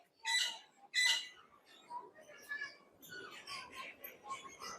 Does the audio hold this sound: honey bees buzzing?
no